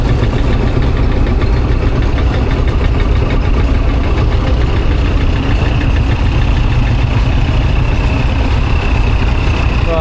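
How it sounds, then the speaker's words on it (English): A Burrell steam traction engine at the Welland Steam Rally in Worcestershire, a loud, continuous mechanical rumble with a rapid knocking beat that stays steady from start to finish. "Here's another Burrell traction engine just there."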